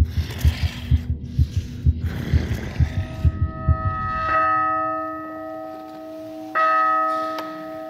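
Heartbeat sound effect in a woodland audio drama: rapid, steady low thumps pound up close for about three seconds, then clear church-bell-like tones ring out and sustain, struck again near the end.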